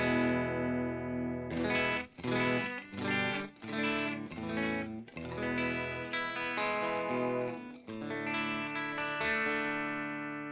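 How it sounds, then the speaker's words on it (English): A bass guitar played through a Blue Guitar amp with a little reverb, warm, slightly distorted, effected tone, a run of plucked notes ringing out with sustain, loud and close. "So this is my bass tone."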